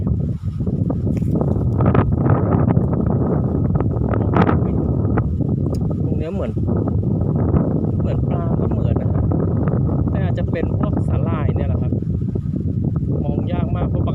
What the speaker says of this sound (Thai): สู้ลมไม่ไหวจริงครับตอนนี้